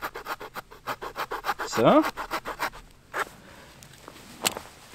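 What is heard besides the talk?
Roxon multi tool saw sawing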